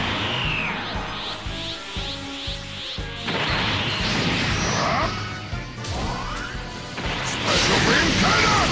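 Special Beam Cannon energy attack in Dragon Ball Z: Kakarot, heard as a run of loud crashing, whooshing impacts and crackling blasts that surge in waves, with shouted battle voices mixed in.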